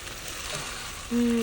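Chicken adobo made without vinegar sizzles in a pan as its liquid cooks off, giving a steady close frying hiss with a brief tonal squeak near the end.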